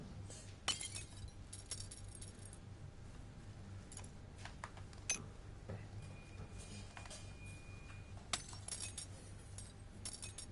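Glass, metal spoons and an orange soda bottle clink and rattle as they are tossed out in a surgery video game, scattered sharp clinks over a steady low hum with a few louder knocks.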